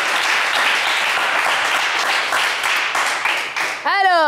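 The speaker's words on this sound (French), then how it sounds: "On vous applaudit également très très fort." A game show studio audience applauds a contestant with sustained, dense clapping that fades toward the end, where a brief tonal jingle cuts in.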